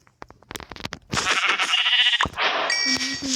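Rapid clicking and tapping, then a loud, wavering Minecraft sheep bleat, followed by a bright chime and a lower electronic tone, game-like and close.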